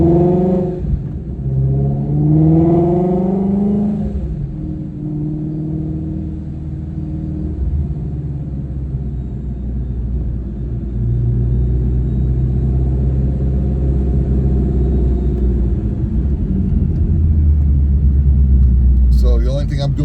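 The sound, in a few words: supercharged Ford Mustang GT350 engine running during ride along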